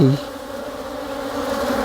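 Honey bees buzzing in a steady, close, continuous drone with a wavering pitch, heard alone without talk.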